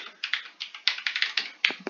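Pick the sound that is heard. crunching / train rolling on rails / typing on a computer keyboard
typing on a computer keyboard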